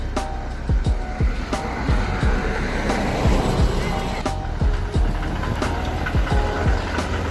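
A SANY 215 ACE excavator is driven down by its owner, its engine rumbling close and loud while the tracks clank and rattle in a rapid, irregular rhythm.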